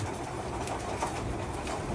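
Racing pigeons in a loft before a final race, a steady low murmur of cooing and soft bird sounds, close by and continuous without talk.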